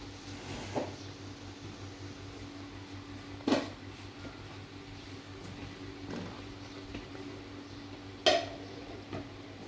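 Milk mixed with khoya cooks in a pan for egg halwa, a faint low bubbling and simmer with a few isolated knocks of a spoon against the pan.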